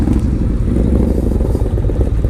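Steady low rumble of a Harley-Davidson Low Rider S engine, a loud, continuous throb at a constant pace with no clear revving, heard up close and without talk.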